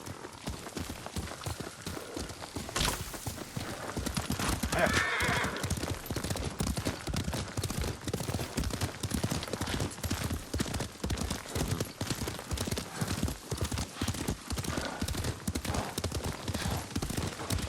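Horse hooves clip-clop in a fast, steady rhythm for a sustained ride in Ghost of Tsushima, dense and continuous with a few louder knocks and rustles.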